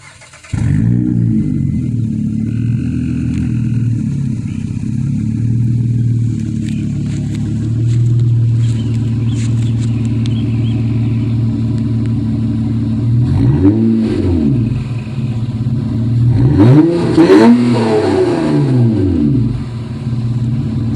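A 2007 Honda Pilot with a Flowmaster Super 10 dual exhaust and 5-inch tips, heard from outside: a deep steady idle burble broken by several sharp revs that rise and fall, the loudest near the end.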